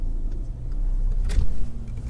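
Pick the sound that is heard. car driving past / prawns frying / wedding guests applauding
car driving past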